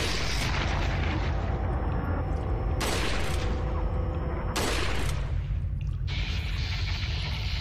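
Three loud, booming gunshots ring out in Resident Evil 4 VR, spaced a couple of seconds apart over a dense, rumbling game soundscape.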